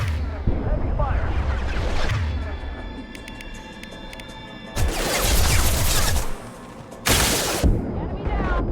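Heavy gunfire from the video game Mass Effect 2 arrives in loud, dense bursts. Blasts and rapid shots come in waves, with brief electronic tones between them.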